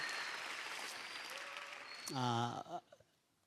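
A church congregation at a Sunday afternoon service claps in a short burst of applause, fading as a voice briefly speaks near the end.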